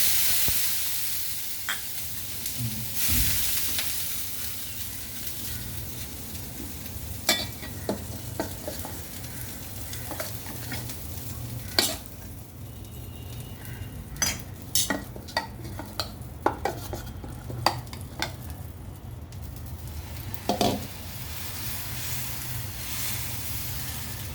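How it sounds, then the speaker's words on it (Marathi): Salt water splashed onto a hot oiled griddle sizzles with a steady hiss, broken by repeated sharp spatters and scraping clicks as it is worked across the surface, close and alone. "तव्यावरती सपका मारणार"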